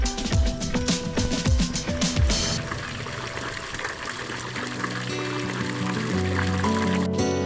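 Spring water pours from a developed spring into a ranch tank, a continuous, close rushing and splashing flow that holds steady after a brief mix of brighter tonal sounds at the start.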